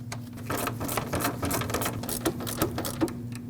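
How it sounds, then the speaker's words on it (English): A bolt securing the fan shroud on a 2009-2010 Dodge Ram 1500 is tightened with a ratchet, giving a rapid, steady run of close mechanical clicks over a low hum. "And then we'll reinstall this bolt that secures the fan shroud."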